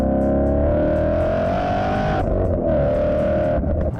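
A Clive Sutton CS800 Mustang with an 800 bhp supercharged V8 revs hard up close, a loud, sustained engine roar with supercharger whine that dips briefly midway before it climbs again.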